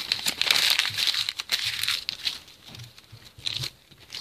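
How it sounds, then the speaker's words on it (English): Handwritten paper notes being torn up, crackling and crinkling in a few close, uneven bursts with short pauses between them. "I'm gonna rip all the notes I've written"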